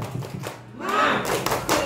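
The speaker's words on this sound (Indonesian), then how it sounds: "Tepuk semangat." A classroom of students doing a rhythmic spirit clap, several quick claps and thumps followed by a burst of group clapping and voices, close and lively.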